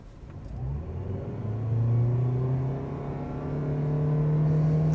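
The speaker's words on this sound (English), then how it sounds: "We're gonna go ahead and just floor it from a stop here and see what we can get." A 2025 Toyota Prius AWD hybrid accelerates hard from a standstill, its engine droning and whirring as the pitch climbs steadily over several seconds, with no voices.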